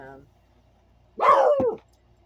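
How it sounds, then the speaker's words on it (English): A single short dog bark, loud and close, following a moment of quiet after a voice trails off. "sorry about that dog"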